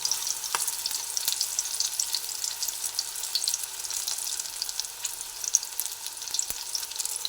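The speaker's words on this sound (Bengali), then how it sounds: "চারটে দিয়ে দিলাম গ্যাসের ফ্লেমটা একটু কমিয়ে দিচ্ছি আস্তে আস্তে ভাজা হোক" Steady crackling sizzle of spinach fritters frying in hot oil on a gas flame, continuous and close, with a couple of faint clicks and no voices.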